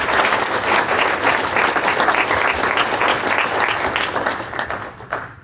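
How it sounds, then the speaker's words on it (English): An audience at a sports awards ceremony applauds loudly and steadily for several seconds before the clapping tapers off, with a faint murmur of crowd underneath. "Can we give her a round of applause, please?"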